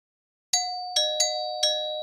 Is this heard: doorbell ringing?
yes